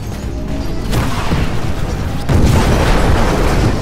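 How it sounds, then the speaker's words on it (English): Missiles strike enemy Titans in the Xbox One game Titanfall, heard as loud, heavy booming impacts with rumbling blasts, one surge near the first second and a bigger one midway, over continuous battle noise. "when you lock on and then you shoot those missiles at the other Titans"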